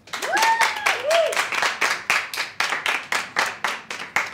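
Studio audience clapping at a comedy show, a loud steady round of applause with rhythmic, evenly spaced claps near the end and a brief whistle-like tone early on.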